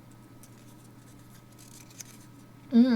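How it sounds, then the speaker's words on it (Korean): Scissors cut a flower-petal shape out of paper in a quiet room, making faint soft snips, followed at the end by a brief loud voice. "가위질을 할 때 종이를 돌리면 훨씬 쉽습니다"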